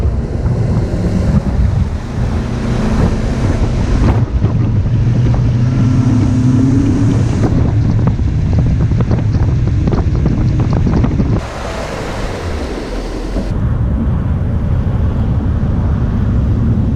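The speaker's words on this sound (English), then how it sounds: "we've got about, I don't know, 25-mile-an-hour winds blowing in" Strong wind of about 25 miles an hour roars across the microphone beside a canal, a loud continuous buffeting rush that swells and dips with gusts, with no talking.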